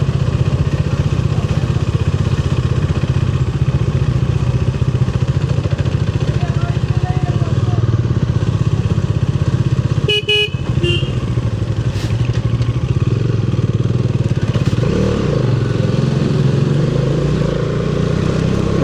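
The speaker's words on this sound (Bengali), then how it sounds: "এরা সব বাইক নিয়ে ওঠে।" Motorcycles climbing a hill road toward the Parasnath temple, their engines droning steadily and loud throughout with a brief clatter midway, while people talk over the noise.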